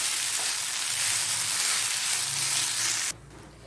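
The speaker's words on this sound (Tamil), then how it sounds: "இதை நல்லா கிளறி விடணும்." Cooked rice being stirred into puliyodharai mix in a pan, with a dense, even close sizzle and soft stirring hiss that cuts off abruptly near the end, no voices.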